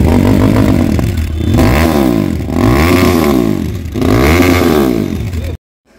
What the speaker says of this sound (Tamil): ஸோ அதுதான் சைலன்சரோட வால்யூம்.